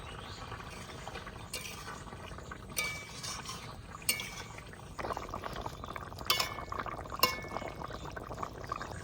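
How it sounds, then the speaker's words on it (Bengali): Mustard oil is poured into a simmering eggplant and hilsa curry, with a soft liquid sizzle and bubbling plus a few light clinks of a utensil against the pot. "বেগুন ইলিশ রান্না হয়ে গেছে, এবার একটু সর্ষের তেল দিয়ে দেবো।"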